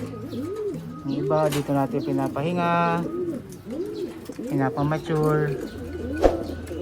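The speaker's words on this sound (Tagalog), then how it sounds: "Ito yung ating mga ibon dito sa grower." Pigeons coo in a grower cage, with soft repeated rolling coos, several birds overlapping at close range, while someone talks over them.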